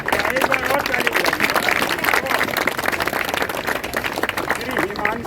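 Enthusiastic applause and clapping from a crowd at a Ramlila rehearsal, a dense, continuous patter of many hands lasting several seconds with background chatter.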